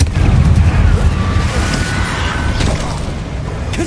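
A Confringo fire spell explosion in the Hogwarts Legacy video game: a loud, deep rumbling blast at the start that fades into a sustained roar, with a few softer pops later.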